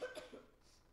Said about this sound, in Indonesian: Maaf saudara ya, saya memang sedikit batuk